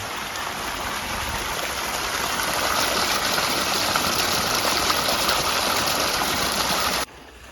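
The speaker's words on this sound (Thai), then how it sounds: "ระหว่างไล่น้ำนะครับ แรงดีนะครับ น้ำนี่แรง" Strong, steady rush of water from a solar-powered pump, a dense continuous gushing close by that holds even and loud, then cuts off abruptly near the end, leaving a quieter hiss.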